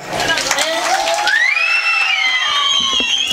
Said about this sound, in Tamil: எல்லாம் கைதட்டுங்கம்மா